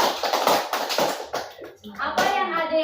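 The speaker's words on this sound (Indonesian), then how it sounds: "Berikan aplaus." Children in a classroom clap their hands in a quick burst of uneven applause, close by, followed by a voice speaking.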